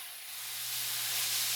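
Collard greens frying in leftover oil in a pot, a steady close hiss that swells slightly louder over its short span, alone with a faint low hum beneath.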